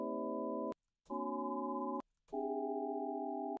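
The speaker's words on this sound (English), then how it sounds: "It's the result of 8 sine waves with different frequencies added together." Eight sine waves at random frequencies summed in SuperCollider form a steady, buzzy multi-tone chord, played as three sustained blocks separated by short silences, each block holding a slightly different cluster of pitches.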